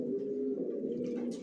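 Racer pigeon squabs of a Johnson long line coo steadily in a loft, a continuous low murmuring drone that fills the short moment with no break.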